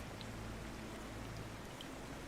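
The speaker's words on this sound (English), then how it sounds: "Rain can be heard passing across them, while the ship continues forward without anchor or harbour beneath the dark storm." Rain falls steadily during a storm at night aboard a wooden ship at sea, a soft continuous hiss and patter with a low rumble underneath, faint and unbroken, with no voices.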